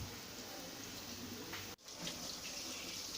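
Chicken pakora deep-frying in hot oil over low heat, a steady dense sizzle and crackle filling the whole stretch with one brief dip partway through, close and fairly soft.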